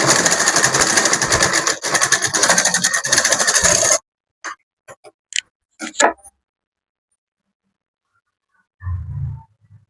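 An electric sewing machine stitches a semi Patiala pant, running in a steady close whir for about four seconds, then stopping. A few scattered clicks and a short low rumble follow.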